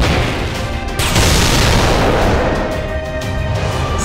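A sniper rifle shot from Sugitani Zenjubou (Traum Sniper) in the video game Fate/Grand Order. A loud, booming blast hits about a second in and rolls on as a dense, sustained roar until the end, with no voices.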